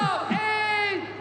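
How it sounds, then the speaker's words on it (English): Brazilian crowd at a Red Bull BC One breakdance battle in Rio, a sustained mass of screaming and whooping voices held loud and steady for over a second, swelling together as one roar. "People are still screaming for Menno"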